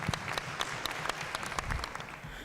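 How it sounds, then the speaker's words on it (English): A short burst of applause, many hands clapping in a dense patter at moderate volume, with no voices. "Shall we give them another round of applause"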